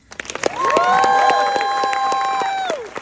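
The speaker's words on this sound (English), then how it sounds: "Make some noise. So clap some more." Concert audience at a festival show cheering and clapping, scattered claps building into a sustained roar of shouts and whoops with rapid applause that carries on throughout.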